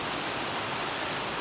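A waterfall pours in a constant, full roar, filling the short stretch with dense rushing noise and no talk over it.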